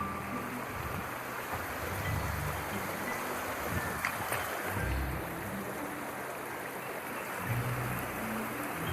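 A creek flowing through a British Columbia forest, a continuous broad rushing wash of water, steady and fairly close, with occasional low thumps.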